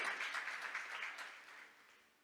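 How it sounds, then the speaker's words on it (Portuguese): Church congregation applauding during a sermon, a soft, distant wash of clapping that gradually fades out. "Você pode aplaudir o Senhor?"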